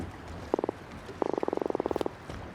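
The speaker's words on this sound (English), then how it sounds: "he's making the drumming sound with his swim bladder, which these fish do to attract a mate" A male drumfish drums with its swim bladder as a mating call: a short burst of about five rapid knocks, a pause, then a longer run of roughly fifteen evenly spaced thumps, fairly close and clear over light background noise.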